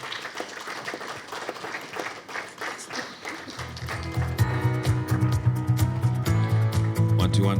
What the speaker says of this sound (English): Another round of applause for Apostle Grace Lubega.